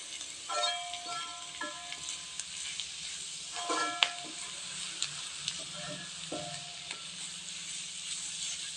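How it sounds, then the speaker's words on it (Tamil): Masala chutney ingredients sautéing on low heat in a pan, a steady soft sizzle broken by the clinks and scrapes of a spoon stirring, close and without talk. "அனல் கம்மியாக வச்சு ஒரு நிமிஷத்துக்கு இதையும் அப்படியே பச்சை வாசம் போகிற அளவுக்கு வதக்கிக்கலாங்க"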